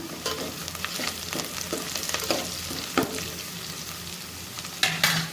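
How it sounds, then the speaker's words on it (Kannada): Oil sizzles and crackles steadily as crushed garlic and curry leaves fry, with intermittent scraping and stirring clicks from a utensil in the pan; no voices. "ಇವಾಗ ಬೆಳ್ಳುಳ್ಳಿ ಹಾಕ್ಲಾಗ್ತೀವಿ ನೋಡ್ರಿ ಕುಟ್ಟಿದ್ದು ಬೆಳ್ಳುಳ್ಳಿ ಮತ್ತು ಕರಿಬೇವು ಸೊ ಚೆಂದಾಗಿ ಫ್ರೈ ಆಗಲಿದು"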